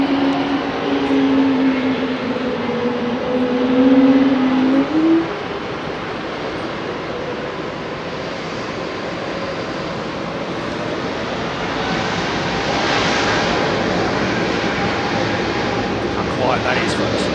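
An Airbus A320 jet at Heathrow Airport gives a steady, broad roar that holds through the whole stretch, with a low engine tone early on and a voice talking over it.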